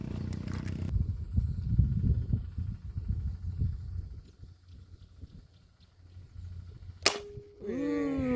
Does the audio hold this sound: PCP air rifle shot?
yes